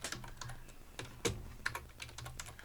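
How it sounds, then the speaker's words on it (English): Keys clack on a computer keyboard as someone types a word, a quick irregular run of light close taps with one slightly harder stroke midway. "we're going to type in design"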